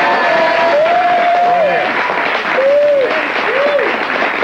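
An audience breaks into loud, sustained applause, thick and steady throughout, with a few voices calling out above the clapping.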